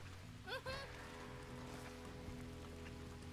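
Steady rain falls in a video game, a soft, even patter that continues beneath voices talking.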